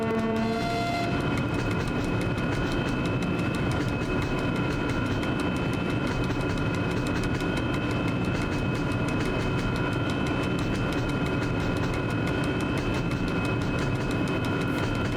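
A diesel train in Train Driver 2 running steadily, its low engine drone and rail rumble continuous and loud throughout, with a brief tonal whine at the very start.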